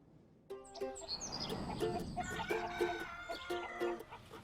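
Hens in a poultry farm hen house cluck and squawk repeatedly in a busy, overlapping chorus, fairly close, with a rooster-like call among them.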